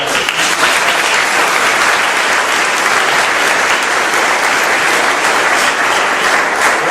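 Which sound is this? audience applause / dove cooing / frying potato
audience applause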